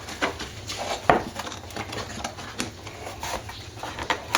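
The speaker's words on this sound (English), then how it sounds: "get this back in the scabbard and get it in the box" A sword being slid back into its scabbard and packed into a box: scattered close clicks, taps and soft scraping clatter of handling, uneven and intermittent.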